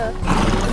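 Horses neigh amid a chaotic video game battle, with game noise and other sound effects mixed in over a short, steady stretch.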